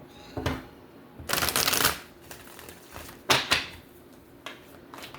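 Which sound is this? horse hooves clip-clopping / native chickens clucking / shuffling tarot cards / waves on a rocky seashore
shuffling tarot cards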